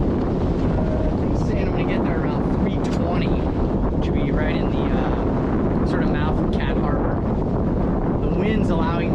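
A sailboat beating up toward Catalina in summer wind, with steady broadband wind rush on the microphone and water noise throughout, loud and continuous.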